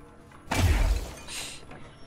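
Glass shatters loudly in the video game Control, a sharp crash followed by a spray of falling shards that fades over about a second, with low background game ambience.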